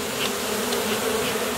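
A swarm of honey bees buzzes loudly and densely up close, a continuous droning hum with a few individual bees whining past, no voices.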